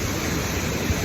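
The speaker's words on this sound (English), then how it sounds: "Made it to the waterfall." A cave waterfall at the end of a gorge on Dominica gives a dense, steady broadband roar of falling water, loud and close, with no talking.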